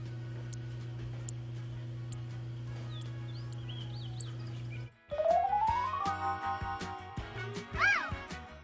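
A wild bird at a Tucson birding spot gives sharp, evenly spaced chirps over a steady hum, then a rising whistled call and a few quick, bright notes, close and clear.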